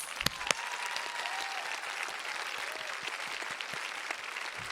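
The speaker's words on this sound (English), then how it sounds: "Let's give them a round of applause." Continuous applause from a graduation ceremony crowd at a high school, many hands clapping steadily with a couple of sharper claps early on, even and sustained throughout.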